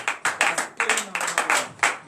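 Rhythmic clapping from a congregation at a morning prayer service in Benin, about eight sharp claps in a steady beat, close and fairly loud, with a faint voice or tone underneath.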